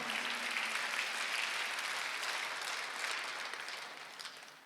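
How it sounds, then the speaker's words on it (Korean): Church congregation applauding during a Sunday worship service, a steady wash of many hands clapping at moderate distance, fairly soft and sustained before tapering off. "메시아 박수 한번 하세요."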